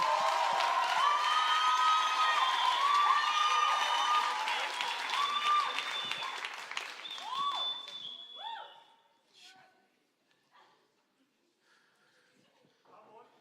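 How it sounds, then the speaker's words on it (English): At an evening ten-year celebration gathering, a crowd applauds and cheers with whoops and shouts, loud and dense at first, then thinning to a few scattered claps and dying away. "So let's give a round of applause to Sean."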